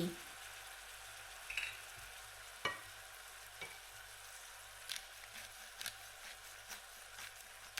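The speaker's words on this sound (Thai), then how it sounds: "เอาลงไปใน กระทะค่ะ เพื่อที่จะให้เขาเคลือบตัวกุ้งแล้วก็ปลาหมึก" Shrimp and squid fry in a pan with a steady sizzle, with a few sharp clinks and stirring knocks scattered throughout; no voices.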